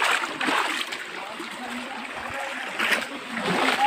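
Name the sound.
water splashing in a jungle stream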